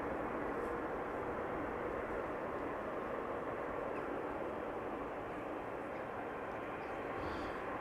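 A Qatar Airways airliner taxiing at Amsterdam Schiphol airport, heard as a steady, distant broadband engine roar that holds constant throughout.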